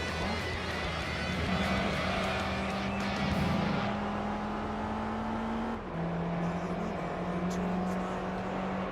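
Racing engines in Gran Turismo 3 with a Honda NSX on track: a sustained buzzing engine drone whose pitch climbs, dips at a gear change midway, then climbs again, with other cars audible in the mix.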